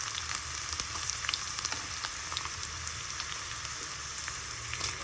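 Mustard seeds and cumin, added after garlic, crackle in hot oil while tempering for chinta chiguru pappu, a steady close sizzle with scattered sharp pops throughout.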